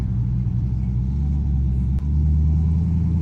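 A HEMI V8 engine swapped into a Jeep Renegade idles and revs loudly close by, a deep, throaty rumble throughout, with a brief dip partway before the roar resumes.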